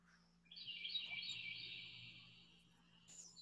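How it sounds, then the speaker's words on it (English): Faint birdsong in the distance, a high trilling chirp sustained for a couple of seconds over a quiet background hum. "can you hear the birds?"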